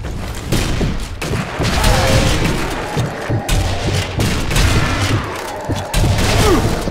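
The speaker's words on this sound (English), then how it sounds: "Oh, machine gun." Heavy gunfire in the Zombie Army Trilogy video game, a loud, dense barrage of shots and booming impacts with bursts of machine gun fire and faint talk underneath.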